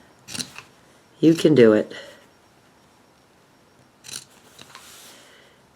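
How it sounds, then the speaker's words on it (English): Scissors make a few short, crisp snips through rag quilt fabric with a calico flower print, separated by pauses, while someone speaks briefly between the cuts. "Now I can hold that together, and I can go ahead and snip"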